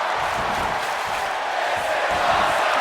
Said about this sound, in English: And Rhea is revving this crowd up.